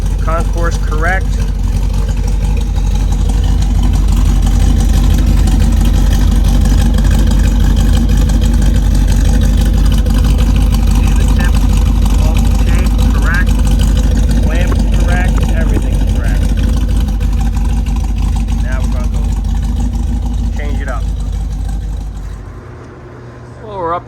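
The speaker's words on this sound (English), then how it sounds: "that is a factory dual exhaust, factory muffler, concourse correct" A 1968 Camaro with factory dual exhaust and factory muffler idles steadily, a deep continuous engine rumble that holds constant for some twenty seconds before cutting off near the end, with a person talking faintly over it.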